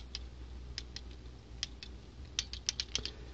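A Harbor Freight 1/4 inch torque wrench gives a series of faint, sharp mechanical clicks, sparse at first and then closer together near the end, heard alone against a low background hum.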